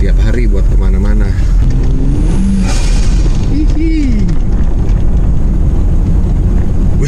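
An old Mercedes 280GE jeep with a powerful modified engine rumbles loudly inside the cabin, with a short, bright burst of hissing air from the engine partway through. People talk over the noise.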